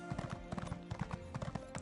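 Horse hooves clip-clopping at a steady trot in Elder Scrolls Online, close and rhythmic with many quick hoofbeats.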